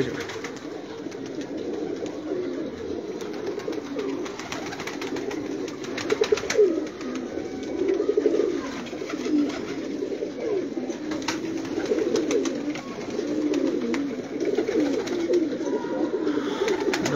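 Pigeons coo continuously in soft, low, throaty murmurs, several birds overlapping at close range with no talking.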